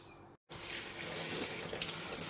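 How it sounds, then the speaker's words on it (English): Tap water runs steadily into a kitchen sink as rice is rinsed, a continuous close, full splashing hiss that cuts out for a moment and then resumes. No one speaks. "And in the meantime I'm just going to go and rinse off some rice."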